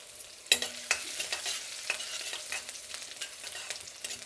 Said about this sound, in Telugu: ఇప్పుడు ఇందులో కొద్దిగా జీలకర్ర, అలాగే వెల్లుల్లి రెబ్బలు. ఈ వెల్లుల్లి రెబ్బలు అనేది బాగా వేగాలండి.